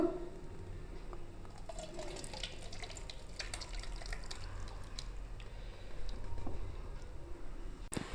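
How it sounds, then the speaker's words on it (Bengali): Whey drips and trickles steadily as chhana, homemade cottage cheese, is strained through a clean cloth set over a bowl; soft, close liquid patter with scattered small drips and faint handling noises, no talking. "এই কাপড়ের মধ্যে ছানাটা ছেঁকে নেবো"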